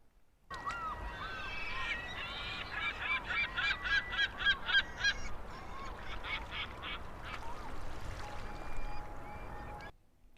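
A large colony of social birds on Big Bear Lake calls together, honking and squawking in overlapping, dense bursts over a steady background wash, fairly near and loud, stopping abruptly at the end.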